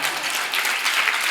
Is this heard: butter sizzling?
no